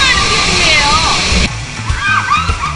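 Powerful waterfall at Pagsanjan in the Philippines pours down in a loud, steady roar of splashing water, with a shift in the rush midway and faint voices beneath.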